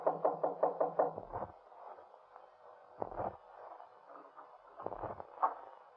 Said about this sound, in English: Just go up the stairs and knock on the door on the left.